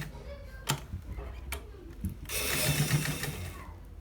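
A sewing machine stitches a shawl collar: scattered ticks and clacks give way to a short, steady mechanical run of stitching lasting about a second, close by.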